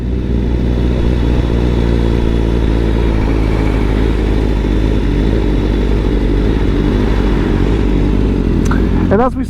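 Honda CBR 1000RR-R Fireblade SP motorcycle engine droning steadily and loudly at highway speed, a constant close-up roar with engine harmonics and wind rush, briefly changing in tone near the end.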